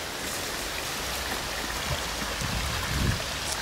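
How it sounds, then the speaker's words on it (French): Soft, steady trickling of a small forest stream, with faint gurgles and splashes nearby, no voices. "On a un petit ruisseau à côté de nous"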